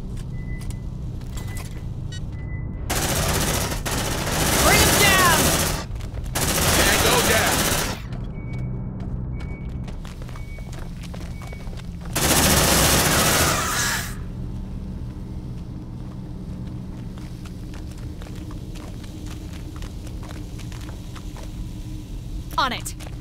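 An automated sentry gun in Aliens: Dark Descent fires in three loud sustained bursts of rapid shots, separated by quieter stretches of ambient hum, distant caw-like calls and brief voices.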